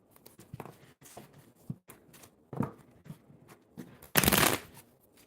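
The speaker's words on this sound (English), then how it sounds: "Just getting cards shuffled up a little bit more today." Playing cards are shuffled by hand in a series of crisp riffles and flicks, with brief pauses between bursts and one louder, longer riffle near the end, close up and without talk.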